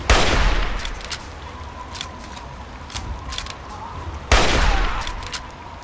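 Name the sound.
gunfire in Fallout 3 video game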